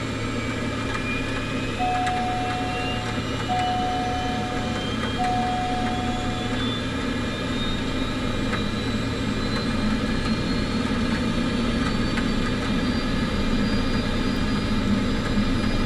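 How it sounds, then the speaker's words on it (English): Aircraft engines spool up in Microsoft Flight Simulator 2024, a constant loud turbine drone with a slowly rising whine, three short evenly spaced electronic tones early on. "engines rising, 11, 12, low idle selected, speed increasing, temperature increasing"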